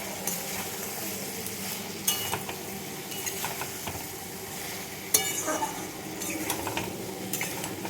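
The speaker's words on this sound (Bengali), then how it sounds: "এইভাবে আমি মশলাটা কষিয়ে নেব।" Spice masala stirred and sautéed in a pan with a little cane jaggery for a gourd and snakehead fish curry, with steady scraping, soft sizzling and occasional utensil clinks against the pan throughout.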